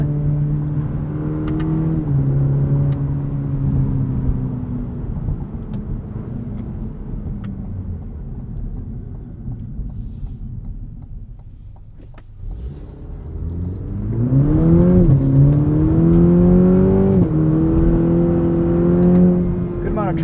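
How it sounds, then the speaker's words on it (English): A 2021 Cadillac CT4 V-Series AWD engine hums steadily, then drops in pitch and swells again as the 10-speed gearbox shifts down, heard from inside the cabin under a voice. "A lot of gears to shift down through with this 10-speed."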